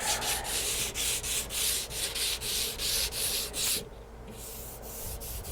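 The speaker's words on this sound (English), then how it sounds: "even with the 220, it's taking its sanding. Literally, it's almost sanding like butter." Hand sanding of a primer coat on a Harley part with 220 grit sandpaper, a steady rhythmic rasping of quick back-and-forth strokes, close and alone, with a brief pause near the end before sanding resumes.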